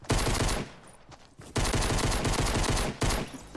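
Rapid automatic gunfire from the video game Fortnite rattles out in three loud, dense bursts, each a fast stream of shots separated by short pauses, with no voices.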